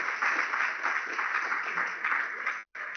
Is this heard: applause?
yes